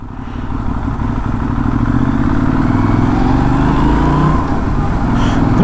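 A Benelli Leoncino Trail 800 scrambler accelerates on a road near Dartmoor, its smooth engine rising steadily in pitch through the gears, loud and close with no talking.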